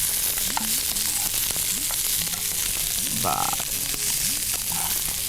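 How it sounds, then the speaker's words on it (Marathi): Onion sautéing in a pan, a constant close sizzle and hiss with faint scraping stirs, while frogs croak and chirp intermittently in the background. "आता थोडासा कांदा लालसर होईपर्यंत आपल्याला परतून घ्यायचा अगदी थोडा"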